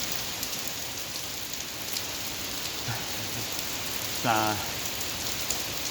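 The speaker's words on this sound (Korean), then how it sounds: "비가 더 굵어져서 여기에서 제가 촬영을 해보도록 하겠습니다." Rain pours steadily outdoors beside Seokchon Lake in Jamsil, a dense, constant hiss of drops on surfaces, heard close around a runner, with a brief spoken word near the end.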